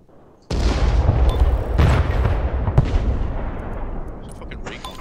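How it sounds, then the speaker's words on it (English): Heavy artillery barrage in the war strategy game Broken Arrow: a sudden loud booming impact followed by repeated rumbling blasts and crackling explosions, close and sustained, with a faint voice underneath. "Time to bring in some artillery."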